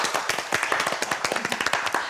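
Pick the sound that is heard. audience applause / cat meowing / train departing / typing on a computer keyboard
audience applause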